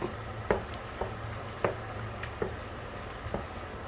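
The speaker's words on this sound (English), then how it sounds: "Stir them. Mash them again so they're nice and smooth." An old burnt spoon stirs and mashes boiled potatoes in a pot, giving soft scraping knocks every half second or so, with quiet squishing in between and no talk.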